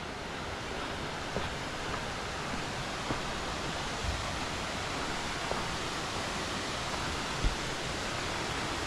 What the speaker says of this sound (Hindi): ये देखो सामने आ गया धनगर वाटरफॉल